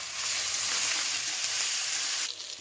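Spice paste sizzling in a pan as a curry cooks, a loud, dense hiss that holds steady and then drops slightly near the end.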